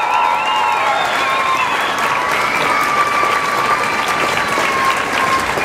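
A crowd at a Memorial Day remembrance ceremony in Colorado applauds an Air Force drill team, with dense, sustained clapping and a few whistles or cheers over it, holding at an even level with no talk.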